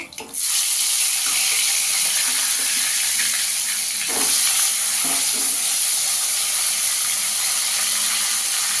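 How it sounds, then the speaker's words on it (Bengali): Bhola fish fry in hot oil with a loud, continuous hissing sizzle, close and steady, with a few faint knocks partway through. "এবার বাকি মাছগুলো ভেজে নেব।"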